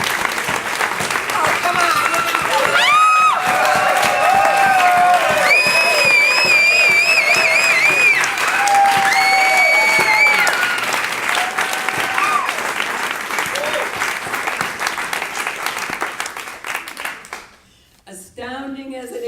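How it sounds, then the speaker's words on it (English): An audience applauds itself at a farewell celebration marking the end of a long march, sustained loud clapping and cheering filling the room, with voices calling out over it before it fades near the end. "I want you to take 30 seconds to applaud yourselves."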